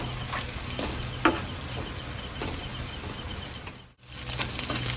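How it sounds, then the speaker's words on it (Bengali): Egg frying in a pan with salt added for a potato and egg dish, a continuous low sizzle with faint scraping, a couple of soft ticks and a brief dropout near the end. "এইভাবে সাইডে একটু ভেজে নেব"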